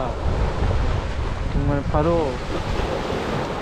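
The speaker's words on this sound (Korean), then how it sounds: "바다 맑고 파도 소리가" Clear sea waves breaking on the shore along a seaside trail in Namhae, a steady loud rush of surf mixed with wind buffeting, with a person briefly speaking over it.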